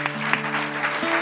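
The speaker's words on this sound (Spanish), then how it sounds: "Un aplauso para estos dos, por favor." Audience applause for two performers at a Spanish-language event, a steady broadband patter of clapping filling the short stretch, with a faint sustained tone running beneath it.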